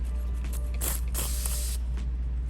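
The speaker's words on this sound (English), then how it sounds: "I'm gonna come in with a alcohol and a lint-free wipe. Spray this on there" Two short hissing spritzes of alcohol from a spray bottle onto press-on nails, close up, followed by a fainter third puff against a low steady hum.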